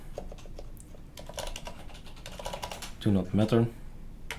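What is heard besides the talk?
typing on a computer keyboard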